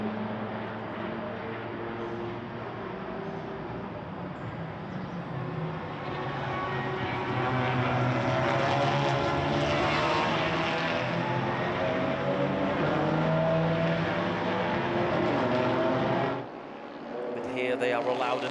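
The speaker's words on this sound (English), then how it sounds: "This is an RS3 Audi, followed very closely by an M3 BMW." Race cars on track, an Audi RS3 closely followed by a BMW M3 in the Supercar Challenge at the Red Bull Ring, giving a continuous rising and falling engine drone that swells loud as they pass, then drops off.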